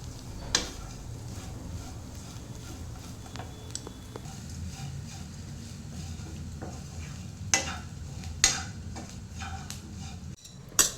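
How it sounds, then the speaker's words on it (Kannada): Grated coconut fries in a pan with a soft, low sizzle under repeated spatula scrapes and clicks against the metal, a few sharper knocks standing out near the end, with no one talking. "ಈ ಕಾಯಿ ತುರಿ ಮಾತ್ರ ಚೆನ್ನಾಗಿ ಇವಾಗ ಫ್ರೈ ಆಗಬೇಕು."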